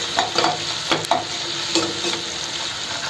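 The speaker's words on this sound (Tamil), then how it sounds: "இதிலே மஞ்சள் தூளும் போட்டு நல்லா மிக்ஸ் பண்ணி வதக்கி எடுத்துக்கலாம்." Bitter gourd sautés in oil with tamarind and turmeric, a loud, even sizzle running throughout, broken by a few brief scraping stirs of a spatula against the pan.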